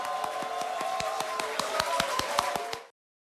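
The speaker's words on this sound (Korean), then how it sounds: "다시 한번 우리 대표님 환영 박수 보내주세요." A crowd gives welcoming applause for party leader Han Dong-hoon with close, crisp, rapid clapping and sharp individual hand strikes. It runs steady for about three seconds and then cuts off abruptly into silence.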